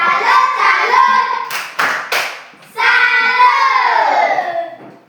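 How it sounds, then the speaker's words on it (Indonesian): A classroom group claps in rhythmic bursts of applause, broken by brief pauses and sharp accented claps, with voices chanting along between the claps. "Tepuk salut dulu untuk kelompok 2"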